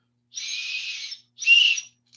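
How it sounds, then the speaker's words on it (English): A rescue whistle blown at moderate strength gives two shrill, steady blasts, a longer one followed by a shorter one, close and clear against silence. "I'm not going to blow this real loud because rescue whistles make a lot of noise"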